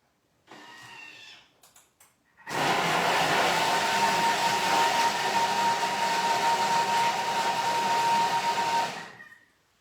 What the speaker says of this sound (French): on va tout simplement mixer ça. Là, c'est au Thermomix.